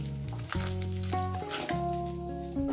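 Katla fish frying in hot oil, a steady sizzling hiss running throughout beneath prominent tonal background music.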